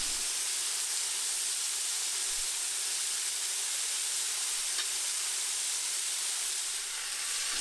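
Vietnamese-style pork chops sizzle and hiss steadily in a hot frying pan, browning and charring at the edges, a continuous close, even crackle with no voices.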